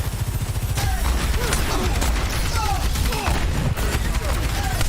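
Turret gunfire in the video game Valorant rattles in rapid, steady bursts throughout, loud and dense over a low rumble, with short chirping effects scattered on top.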